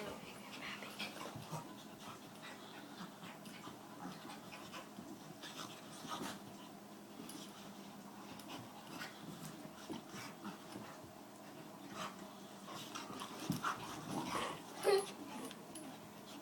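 Dogs wrestling, panting steadily with soft whimpers and occasional yips, fairly quiet and close, with no talking.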